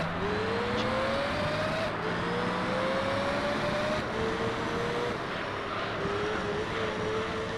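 A Ford GT40 race car engine in Gran Turismo 3 screams continuously, its pitch climbing steadily and dropping at several gear shifts, loud and close throughout.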